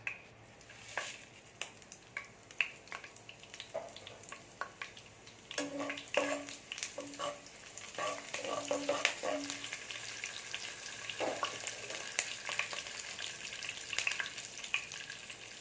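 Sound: spices spluttering in hot oil

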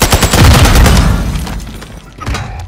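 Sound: gunfire in video game Call of Duty: Modern Warfare II

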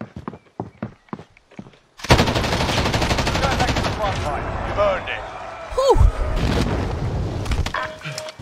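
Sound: gunfire from a vehicle in the video game Warzone

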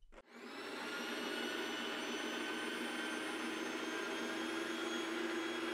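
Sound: Breville Barista Touch built-in coffee grinder grinding beans

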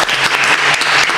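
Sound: applause for Dani

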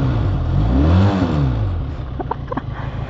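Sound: Benelli 502C two-cylinder motorcycle engine revving

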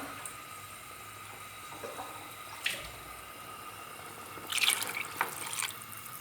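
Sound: glass of water poured into a cooking pot

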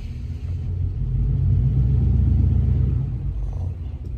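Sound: car being parked by the house

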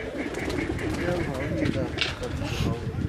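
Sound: pigeon cooing

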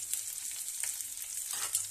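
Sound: chopped vegetables sizzling in pan for pasta

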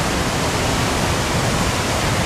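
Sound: roar of Murchison Falls waterfall, Uganda

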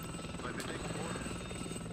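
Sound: attacking helicopters in video game WARNO

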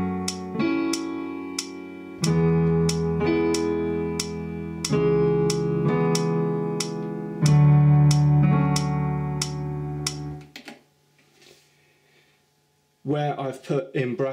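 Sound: piano chords played in rhythm

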